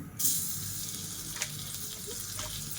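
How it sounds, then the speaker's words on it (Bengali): Butter sizzles in a hot kadai while white sauce pasta is being made, a steady close crackle with a brief sharper burst near the start and a small knock midway; no talking. "কড়াই আমার গরম হয়ে গেছে তো এই যে বাটারটা দিয়ে দিচ্ছি"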